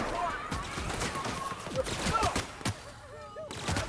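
Gunfire in The Outer Worlds, a woman firing on the player character in a city, heard as scattered sharp shots over game ambience, with a talking voice through parts of it.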